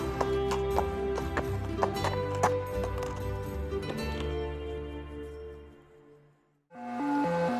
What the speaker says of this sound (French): Magnier, partie fin février donc de Calais, cette cavalière passionnée d'histoire, parcours à cheval 470 km direction Chantilly